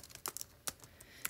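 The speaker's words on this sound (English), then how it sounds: "So I love using my Bluetooth keyboard." Keys on a Bluetooth keyboard are tapped in a short irregular burst of light, close clicks over a quiet room.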